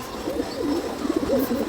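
Pigeons coo close by, a string of soft, rolling throaty calls repeating steadily over a low background murmur, with no talk.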